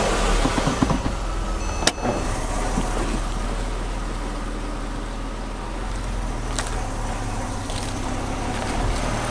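A Porsche 911 driving after a fresh oil change, its engine suspected of a head gasket problem; a steady close cabin drone of engine and road noise, with a sharp click early on and another faint tap later.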